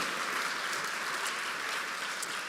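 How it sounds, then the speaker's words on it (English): An audience applauds Diane and John at the Blanchet House brunch, a steady mass of clapping heard from a distance at moderate volume. "Please give a huge round of applause for Diane and John,"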